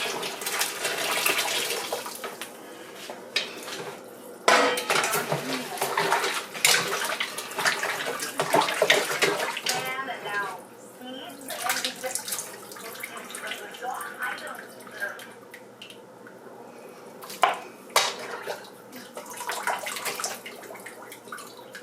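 Goat meat is rinsed repeatedly in water with lemon in a home kitchen: irregular splashing, sloshing and running-water bursts continue for about twenty seconds, loud then quieter, with hand rubbing and occasional clinks.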